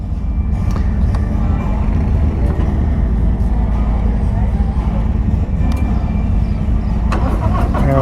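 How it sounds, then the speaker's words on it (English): A 2023 Harley-Davidson Street Glide Special, 120th Anniversary edition in red, cranks and fires, its engine rumbling loud and steady throughout with some sharp clicks, while a voice talks over it. "Let's see if I can remember how to crank this Harley."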